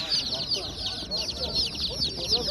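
Dense, continuous high-pitched chirping from many chicks packed together at a poultry market, with clucking and voices murmuring underneath.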